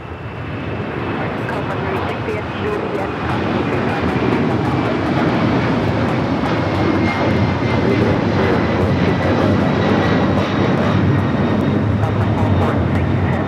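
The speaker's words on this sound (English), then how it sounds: "Delta Airlines 446 taking off to Atlanta on the 767-400 ER." A Delta Boeing 767-400ER heavy jet rolls and takes off from Los Angeles airport, a powerful, sustained engine roar building slightly and staying loud throughout, with faint voices beneath.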